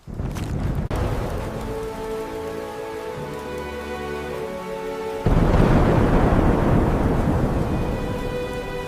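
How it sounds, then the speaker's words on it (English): A thunderstorm rumbles with a deep roll of thunder over steady rain, then a heavy crash and louder downpour hiss in the second half, close and continuous with no voices. "Will the storm stop soon?"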